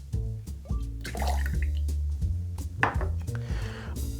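Half an ounce of 1-to-1 simple syrup pours into a sour cocktail in a couple of short liquid splashes, set against steady background music.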